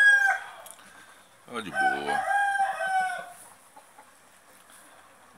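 A giant rooster and chickens on a backyard farm, with a loud nearby crow lasting about two seconds amid scattered clucking, while someone speaks briefly before it.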